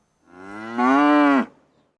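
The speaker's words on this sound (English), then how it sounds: "the cow, la vaca" A single cow gives one long, clear moo close by, rising and swelling before it cuts off abruptly, alone against a quiet background.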